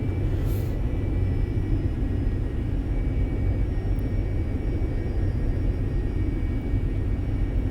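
A Cessna Citation II business jet cruises in X-Plane 11 under hazy real-world weather, its engines giving a steady, dense cabin rumble and whine that holds unchanged throughout.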